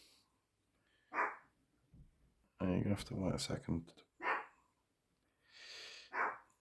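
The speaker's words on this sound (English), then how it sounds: "that's me doggy telling me he wants to be in" A pet dog barks several times in separate short bursts, wanting to be let in, with a nearby voice speaking between the barks.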